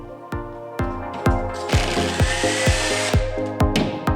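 Power drill boring holes into a wall for mounting rails, a rapid hammering rhythm of sharp repeated impacts under a whining motor, close and loud throughout.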